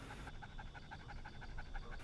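A dog pants quickly and rhythmically, the breaths faint and steady over a constant low background hum.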